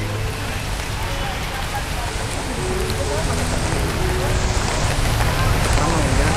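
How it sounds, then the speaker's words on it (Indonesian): Steady rain pours down outdoors in a dense, continuous hiss that grows slightly louder toward the end, with no pauses. "Iya, sama hujan."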